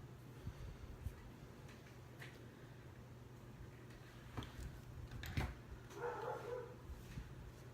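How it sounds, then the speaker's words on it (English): Faint, distant dog barks now and then over a quiet background, a few sharp yips scattered across the stretch. "Sorry if you can hear dogs barking."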